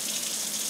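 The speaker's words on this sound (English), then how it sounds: "Let me just wash my hands here" Tap running as hands are washed, a brief steady hiss and gush of water close by with no speech over it.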